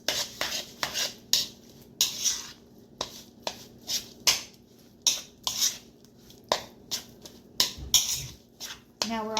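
Stuffed pepper filling with ketchup and one egg being mixed by hand in a bowl, a close, rhythmic series of wet squelching slaps and clinks repeating about once a second; no talking.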